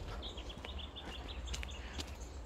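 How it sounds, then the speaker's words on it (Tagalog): Faint birds chirp in short, high calls over a low background rumble, several quick tweets scattered across a few seconds, in forest at Sheoak Falls near Lorne, Australia. "Yung mga tunog lang ng ibon nakakaaliw."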